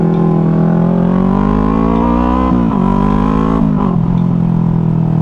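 BMW G80 M3 engine heard nearby, a loud steady drone that rises and wavers in pitch as the car goes by, with no talk over it.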